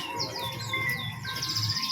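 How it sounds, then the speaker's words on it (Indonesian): AF canaries sing in a bird shop, with repeated chirping phrases and short whistled trills that sound fairly faint over a background hum. "Ini untuk yang kenari AF, untuk warna cerah dan gelap notanya sama"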